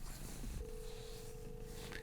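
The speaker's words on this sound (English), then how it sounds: "Phone is ringing." A call placed on an Oppo Find N5 foldable phone gives a steady ringback tone that starts after a moment and holds, faint, over a light background hiss.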